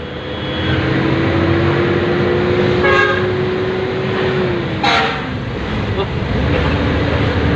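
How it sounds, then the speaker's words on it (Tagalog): Heavy road traffic in Barangay Mayamot during flooding, with a long steady horn held for several seconds amid engine rumble, a brief clatter and faint voices in the background. "Grabe traffic ah."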